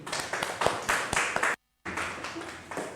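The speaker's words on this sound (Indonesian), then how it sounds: "Kasih aplaus terlebih dahulu." A classroom audience claps after a student group's discussion presentation in a teaching-practice lesson, a burst of brisk applause that stops abruptly in a brief silence and then resumes, with no talking.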